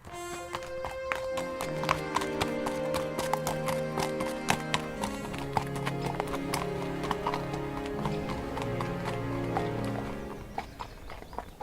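Horses clip-clop steadily on arrival at a castle, hooves tapping in a brisk repeated rhythm under bright medieval-style music that continues throughout.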